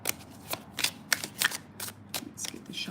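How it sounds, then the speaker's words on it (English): Tarot cards being shuffled by hand, a rapid series of crisp riffling and slapping bursts repeating about every half second, close and fairly quiet, with no talking. "let's get the shuffle"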